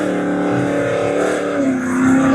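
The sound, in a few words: drag car racing at Manston Raceway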